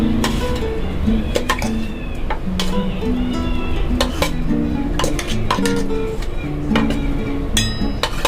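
Metal utensils clank and scrape against a pot as freshly cooked khaman dhokla batter or food is transferred in a home kitchen, a steady close string of clinks and knocks with no speech.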